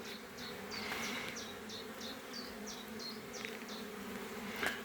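Honey bees buzzing around a small nucleus hive, a steady faint drone with individual bees zipping past in quick repeated passes, no voices.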